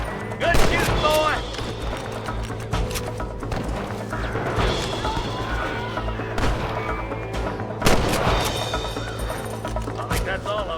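Gunfire from a shootout in the Western video game Red Dead Redemption: scattered shots and cracks, a few sharp loud reports standing out over a steady background of game ambience and music.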